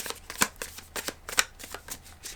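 Tarot cards being shuffled by hand: a quick run of crisp, papery riffles and taps, close and fairly loud, with a couple of sharper snaps, no talking.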